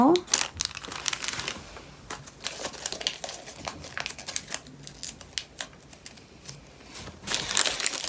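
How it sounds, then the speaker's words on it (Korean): Paper being folded into step folds for an origami peacock, giving close, continuous crinkling and crisp creasing rustles with scattered sharp paper snaps, with no speech. "이 계단 접기를 접어주세요"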